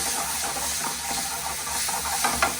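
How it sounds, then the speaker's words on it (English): Capers and their juice poured into a hot pan for chicken piccata hiss and sizzle loudly and steadily close by, with a few sharper pops near the end and no voices. "we will add a half cup of capers with the juice"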